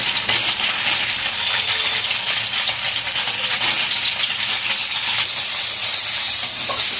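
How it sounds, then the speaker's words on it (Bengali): Soy chunks fry in oil in a pan until browned for a vegetarian curry with plantain, potato, drumstick and eggplant, a loud, continuous close-up sizzle and crackle with no pauses and no talking. "সয়াবিনগুলো আমি ভাজছি।"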